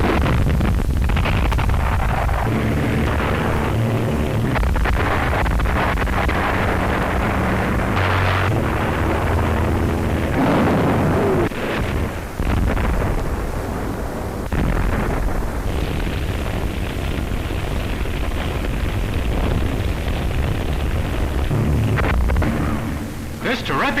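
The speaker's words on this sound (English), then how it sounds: "This terrific bombardment continued for days" Artillery bombardment in Shanghai in 1932 produces a dense, continuous series of deep booming explosions and rumbling blasts, loud and harsh with wind buffeting the microphone and a voice speaking over parts of it.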